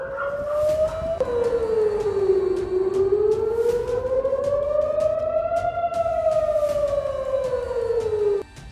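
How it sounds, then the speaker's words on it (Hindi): An air raid alert siren wails across central Israel, its pitch rising and falling in a long, loud, sustained howl that dips briefly and then fades at the end. "सायरन अलर्ट सुनाई दिए।"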